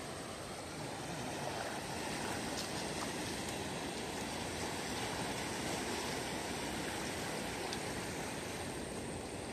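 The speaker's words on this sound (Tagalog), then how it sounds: "Lakas ng alon." Strong, flooded river current rushing past, a steady broadband roar of churning water that stays loud and even throughout, with no voices.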